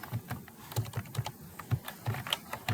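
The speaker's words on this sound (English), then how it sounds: "Oh, my typing is horrible today, so please excuse." Fingers type on a computer keyboard in quick, uneven bursts of soft clicks and taps, close and fairly quiet, with no voices over them.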